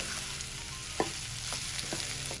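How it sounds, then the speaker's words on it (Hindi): Precooked potatoes being fried and stirred in a spiced tempering, a steady low sizzle with a few scraping stirs of a spoon against the pan, close and moderately quiet. "अब हम इसे अपने तड़के में मसाले में अच्छी तरीके से इन आलूओं को हम भूनेंगे"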